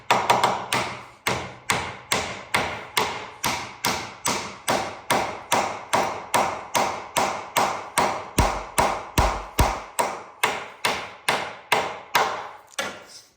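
Steady series of sharp wooden taps on the top of a wooden front door during glue-up of a joint, about two per second, each a solid knock with quick decay, continuing without pause and no talking.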